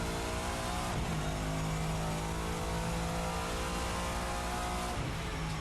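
Race Sim Studio's GT-M Lux V8 in Assetto Corsa climbs through the revs at full throttle, a continuous harmonic engine note rising and shifting, with brief dips around gear changes, loud and steady without talk.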